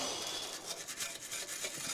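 Paint being stripped from a metal Toyota Altezza rear subframe reinforcement, a steady rough abrasive rasping that scrapes in quick repeated strokes, close and fairly faint.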